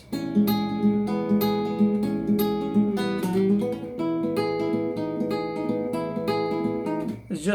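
Acoustic guitar plays the solo from a song with hammer-ons, a steady run of picked and hammered notes with a brief sliding pitch change midway. It sounds close and clear, with no talking.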